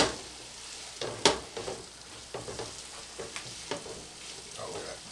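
Gnocchi and beef in a pesto skillet, sizzling softly as they are stirred, with a few sharper scrapes and clatters of the utensil against the pan over a steady low frying hiss.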